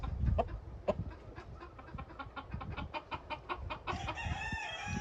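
A gamefowl rooster, half Mac Ray and half hatch, crows loudly toward the end, over a busy farmyard background of clucking hens and rustling noise.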